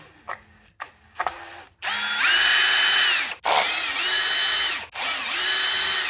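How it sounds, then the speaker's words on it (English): A power driver backs screws out of a Redcat Valkyrie RC car, whirring loudly in three sustained runs with rising pitch at each start, preceded by a few sharp clicks. "go ahead and take off these couple screws here."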